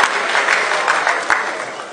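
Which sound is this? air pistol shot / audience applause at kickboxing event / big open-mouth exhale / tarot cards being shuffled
audience applause at kickboxing event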